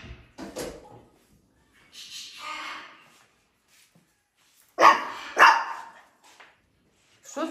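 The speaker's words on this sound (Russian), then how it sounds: "Что ты гавкаешь?" A dog barks nearby in irregular bursts, a few muffled woofs early on, then two sharp, loud barks close together, separated by stretches of near silence.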